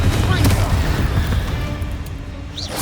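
Bombarda and Confringo spell explosions from Hogwarts Legacy roll out as a dense, heavy booming rumble that stays loud through the moment and fades slightly toward the end.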